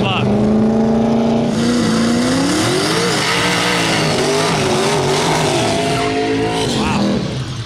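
Drag race between a turbo LS-swapped Honda and a Mustang: loud engines roar and rev close by, rising in pitch through hard acceleration, with faint tire squeal and crowd noise mixed in.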